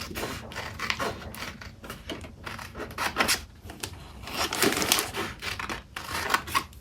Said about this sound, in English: I'm going to get a pair of scissors, and I'm just going to cut out this one sticker right here.